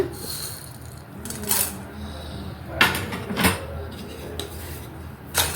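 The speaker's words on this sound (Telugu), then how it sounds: "ఇప్పుడు మాడకుండా బాగా వేయించుకోవాలి కలర్ వచ్చేలాగా" Cumin and coriander seeds are dry-roasted in a pan, with a spoon scraping and clinking against metal in a few separate bursts over a faint background.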